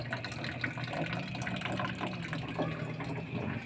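Water from a tap runs in a steady, continuous gush in a cramped home kitchen of a small food stall, with a low flow that holds at an even level throughout and no one speaking.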